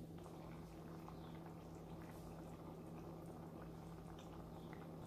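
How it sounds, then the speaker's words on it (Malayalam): A covered pot of palak paneer curry boils steadily, giving a faint, continuous low bubbling hiss with a soft hum beneath and no voices. "ഇപ്പൊ നല്ലപോലെ തിളച്ചു വന്നിട്ടുണ്ട്"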